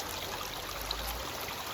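A brook in Maine runs steadily under a road where it spills into the Kennebec River, making a soft, continuous trickling wash with no other sounds.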